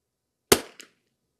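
A single sharp .22LR rifle shot cracks at an outdoor shooting range, close and loud, followed by a short echo and then quiet.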